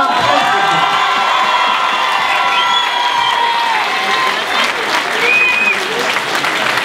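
Town-hall audience applauding a world team-event ski champion, loud sustained clapping with cheers, whoops and children's shouts rising over it, continuous and close.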